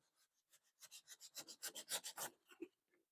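Sandpaper of 80 grit rubbing back and forth along the edge of an old junk picture frame, a quick series of about fifteen raspy strokes that builds in loudness, then stops, heard alone and close.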